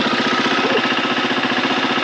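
Dirt bike engine idling steadily on a British Columbia mountain trail before setting off, a loud, continuous throbbing putter close by with no break for the whole moment.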